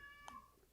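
A cat gives one brief, faint meow in a quiet room, heard alone and very short.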